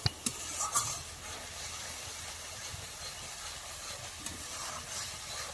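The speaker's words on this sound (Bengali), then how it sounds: "মশলা থেকে যে জলটা মশলা ধুয়ে জলটা দিয়ে দিলাম যাতে কড়াইতে না লেগে যায়।" Spiced water hits a hot wok (kadai) while cooking Bengali shukto, giving a steady broadband sizzle with stirring scrapes, a few sharp clinks near the start, continuous and close.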